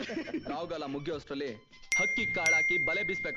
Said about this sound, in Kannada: ಅದು ಮೆಸೇಜ್ ಸೌಂಡ್ ಕಮ್ಮಿ ಮಾಡು